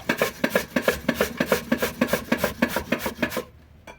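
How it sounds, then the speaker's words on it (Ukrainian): Zucchini scraped against a coarse grater in quick, even strokes, a rhythmic rasping close up that stops near the end. "Натираю тепер кабачки на крупну пертушку"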